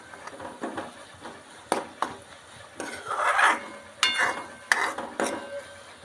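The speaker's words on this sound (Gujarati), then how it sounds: "અને હલાવી નાખીએ એટલે મરચું વઘારની અંદર ભળી જાય." Red chili powder and coriander-cumin powder are stirred into an onion-tomato tempering for a lotus bud curry. A spoon scrapes and knocks against the pan in uneven strokes over a soft, intermittent sizzle.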